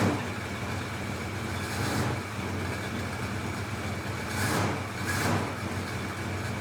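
The engine of a 1968 Dodge D200 pickup idles with a steady low rumble, swelling three times as the throttle is blipped.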